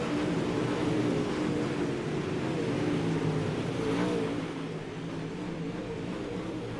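UMP modified race cars roar around a dirt track at Charlotte in a sustained, loud engine drone with shifting revs, easing slightly in volume toward the end.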